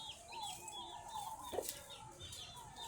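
A plump purebred hen with a brood of chicks clucks while being fed under a cashew tree. Soft, repeated clucks sit close by, mixed with high, thin chick peeps throughout.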